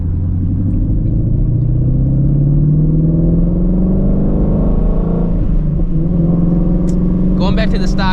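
A Shelby GT350 engine pulls hard under sustained throttle with no-lift shifts, a loud, close, continuous rumbling roar rising in pitch, with a voice speaking near the end.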